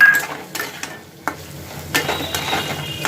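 Potatoes, vegetables and chopped green chillies frying in a pan for wheat-flour noodles, stirred with a spatula, giving sharp scraping knocks and clinks over a soft sizzle, close up and without talk.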